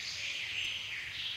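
Birds chirp in the Minecraft modpack Prominence 2, a steady high twittering wash of ambient calls that fills the whole moment at moderate volume, with no talk over it.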